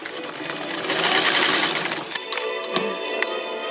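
A Kenmore 117.552 sewing machine stitching, a close mechanical whirring run that swells for a couple of seconds and then slows, followed by a few light clicks and taps, with no voices.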